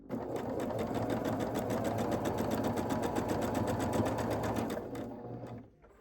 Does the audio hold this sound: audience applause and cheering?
no